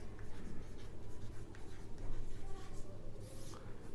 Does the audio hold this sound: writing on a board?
yes